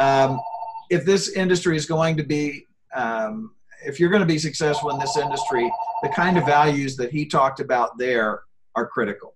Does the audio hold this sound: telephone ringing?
yes